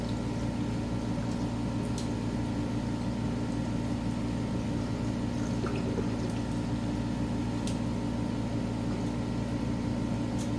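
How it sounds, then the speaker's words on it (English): Liquid being power-flushed through a 1958 Farmall 450 gas tractor, a steady loud rushing and gurgling drone with a strong low hum that runs without a break, no talking. "That works really good for a quick power flush."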